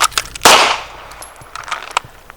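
Pistol shot fired during a sub-second draw drill, one loud sharp report near the start followed by faint clicks and small clanks, no talking.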